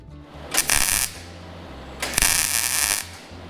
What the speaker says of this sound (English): I'll drill these out